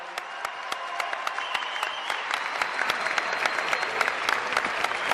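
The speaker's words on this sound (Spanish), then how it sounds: "nuevamente al presidente Alberto Fernández, que suene el aplauso." Steady applause at an Ushuaia, Argentina political event headed by the president: dense clapping with sharp individual claps standing out, moderately close and holding even throughout, with no talking.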